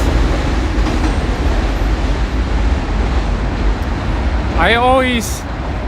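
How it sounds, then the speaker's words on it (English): A loud New York City subway train in Brooklyn roars past steadily at night, and a person's voice rises briefly over the rumble near the end. "I gotta wait for the subway to pass."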